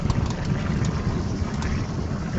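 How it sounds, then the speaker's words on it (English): Outdoor wind gusting past a microphone on a state park trail in Illinois, a steady low rumbling buffet that stays fairly loud and fills the short stretch without any voices. "Of course, the wind seems to pick up,"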